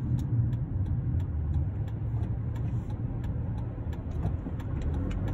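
Car engine while driving on a road, a steady mid-pitched drone with road rumble filling the background, continuous and fairly close, with faint ticking on top.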